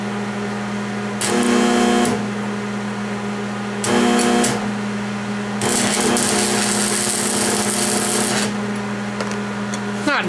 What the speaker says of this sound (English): Not nice welding with your left hand. But we got a tack on there.